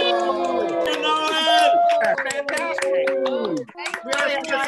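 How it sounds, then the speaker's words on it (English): A small audience at a children's playhouse year-end finale claps and cheers for the performers, with excited shouts and chatter from adults and kids over the clapping. "So let's go ahead and applaud all of our performers."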